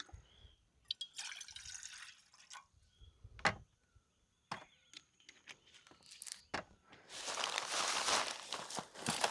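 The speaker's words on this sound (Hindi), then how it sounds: "अब पानी जिससे वेस्ट ना हो तो मैं पानी नाप के डालूँगा।" Water measured into a stainless steel cup: scattered drips and small clinks at first, then a steady, close pouring rush filling the cup near the end.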